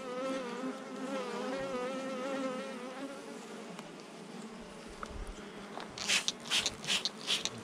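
Honeybees drone and buzz steadily around an open hive frame in an apiary, a dense close swarm hum with wavering pitch, ending in a few sharper rustling bursts as the frame is handled.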